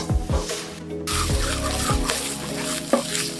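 Food is stirred in a pan with a few sharp scrapes and clinks of a utensil over a soft background sizzle, as ginger, garlic and thyme paste cooks.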